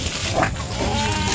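Goats on a farm give a short nasal bleat, fairly near, over a low steady background hum.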